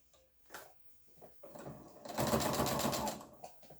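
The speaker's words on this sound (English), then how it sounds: "I am going to top stitch across the top and also top stitch across the bottom." A sewing machine top stitching across fabric runs in a loud, steady mechanical whir for about two seconds, following a few short starts and knocks, close by with no talk.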